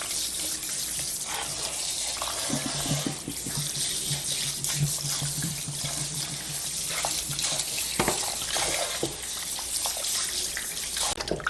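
Pork backbones are rinsed under a running kitchen tap, a steady stream of water splashing and gurgling over the bones with occasional clunks from handling, with no voices.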